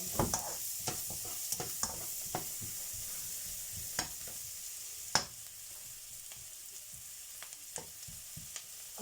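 Onion frying in a pan for fried rice crackles in a soft, steady sizzle with scattered sharp pops and spatters throughout, close by and without talk.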